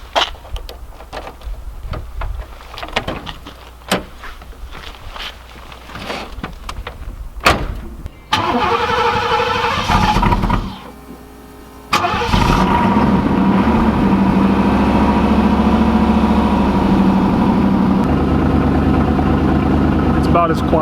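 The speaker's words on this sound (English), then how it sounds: "This is the first cold start." A stock Pontiac Firebird Formula WS6 makes its first cold start of the day: handling and clicks, then the engine cranks and catches into a steady, loud idle that runs on alone.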